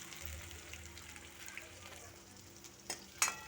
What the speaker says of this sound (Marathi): त्यामध्ये आपल्याला मिरच्या टाकून व्यवस्थित भाजून घ्यायचं आहे